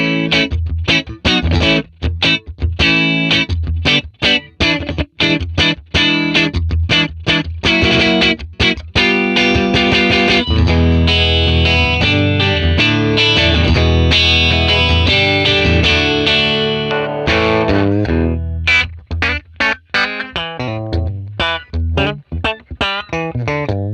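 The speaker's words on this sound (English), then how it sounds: "let's try the clean bright setting first with reverb off, and let's try the in-between position with the Les Paul" A Les Paul guitar played clean through a Fender 1957 Tweed Bassman amp model, bright setting, in-between pickup position, reverb off: loud plucked notes and chords in a steady rhythm, a sustained strummed passage in the middle, no voice.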